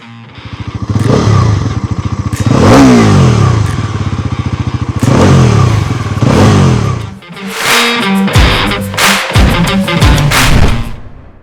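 A Bajaj Pulsar NS400 motorcycle rides past loudly, its engine droning and rising in pulsing surges, then clattering and thumping mechanical bursts follow as it revs and shifts, up close without speech.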